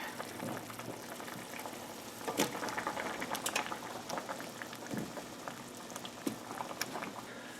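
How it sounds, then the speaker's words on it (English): A pot of potato and pea curry simmering steadily, with a soft continuous bubbling and occasional louder pops and splutters, heard close and alone. "this is starting to simmer, so I'm going to go ahead and throw the potatoes in and give them a stir"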